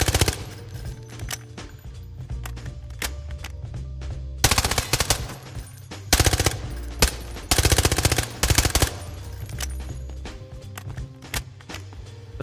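An AR-57 rifle fires in the video game Delta Force in long, rapid automatic bursts with sharp repeated cracks. The bursts come in clusters with short gaps between them, over a steady low game background.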